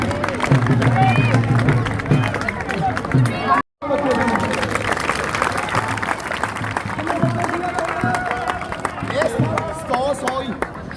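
A crowd claps and murmurs at an outdoor village race for under-11 children in Punjab, continuous applause and babble with voices over it, and a brief dropout near the middle.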